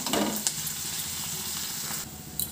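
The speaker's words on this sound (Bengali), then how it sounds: "এখন গ্যাসের ফ্লেমটা মিডিয়ামে রেখে পেঁয়াজ কুচিগুলো হালকা একটু লাল লাল হওয়া অবধি ভেজে নেব।" Chopped onions fry in oil over a medium gas flame, giving a close, steady sizzle with a few soft stirring scrapes.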